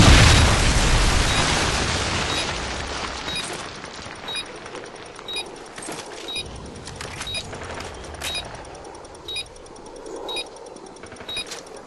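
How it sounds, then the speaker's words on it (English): A Predator missile explosion in Call of Duty Modern Warfare 2 opens with a loud boom that decays, followed by scattered gunfire pops and distant blasts in the background. "Predator missile inbound."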